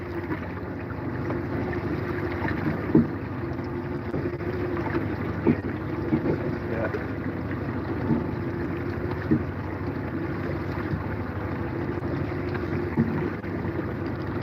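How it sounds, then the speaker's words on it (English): A low, steady motor drone of a boat carries across open ocean water off Oregon, with faint wind buffeting and occasional soft knocks, no voices. "You hear a boat in the area."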